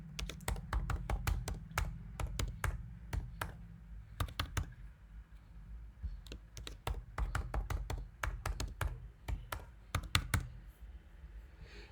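A computer keyboard being typed on in bursts of crisp, close key clicks, with short pauses between groups of keystrokes and a low hum underneath, no talking.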